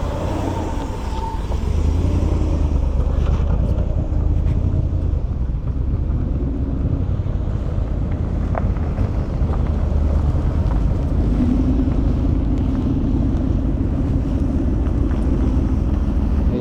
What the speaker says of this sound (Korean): 110대의 스톤 마틴들이 하나 둘 빠져나가고 있습니다.